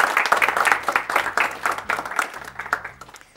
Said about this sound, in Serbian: ajmo jedan aplauz za prvi tačan odgovor